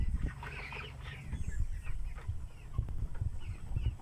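A flock of hungry organic chickens clucking and murmuring together, a busy close chatter of overlapping calls with some shuffling.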